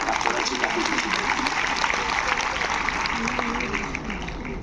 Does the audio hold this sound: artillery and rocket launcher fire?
no